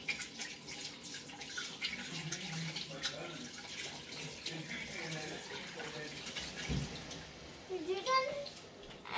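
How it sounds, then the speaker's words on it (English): Tap water runs steadily while hands are washed at a sink in a home kitchen during baking, with splashing and a faint clink, and a person speaks softly over the flow. "wash your hands, because"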